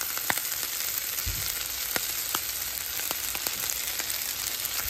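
Corn frying in a skillet, a steady close sizzle with scattered small pops and crackles and a brief stir or clatter, no voices.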